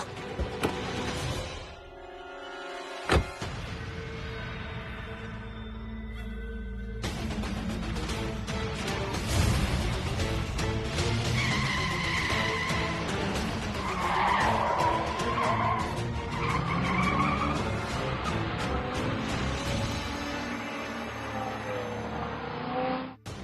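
A car engine strains as tires squeal and skid loudly on the road, the screeching sustained and shifting in pitch for a long stretch.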